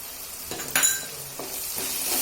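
Chili powder, turmeric and coriander are stirred into frying eggplant bharit in Khandeshi style, with a few spatula scrapes and clatters over a soft, continuous sizzle close by.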